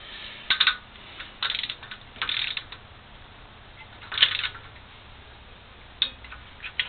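A torque wrench clicks as bolts are tightened in a crisscross pattern, with about five distinct sharp metallic clicks spaced a second or so apart over faint ratcheting and background noise.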